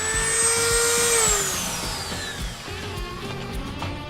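A Dremel rotary tool with a high-speed cutter whines at high pitch and then winds down as its speed falls, while irregular grinding and chattering of the cut continues underneath, close and fairly loud.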